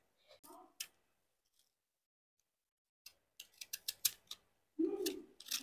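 A knife snips through fresh lotus stem in a home kitchen while the sides are trimmed off for pakoras, giving sharp, crisp cutting clicks in short clusters separated by a long quiet pause, close and clear.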